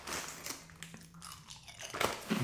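A Ricci's milk flavor snack, one of several Filipino snacks in an eating session, is bitten with a few close, crisp crunches, followed by quieter chewing, with no talking.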